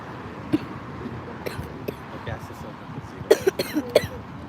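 Several short coughs from someone with a cold, near the microphone, a single one early then a quick cluster of three or four toward the end, over low background noise at LAX.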